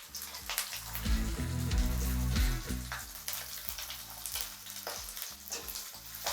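Chopped garlic frying in a hot pan with cumin and grated ginger for dhaba-style chili chicken, a steady close sizzle with scraping stirs, louder in the first half and easing later, no voices.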